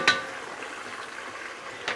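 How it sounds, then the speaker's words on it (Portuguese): Chicken pieces frying in a pan, a continuous soft sizzle close by, punctuated by a sharp clink of utensil against the pan at the start and another near the end, with no talking. "enquanto o meu frango está aqui fritando"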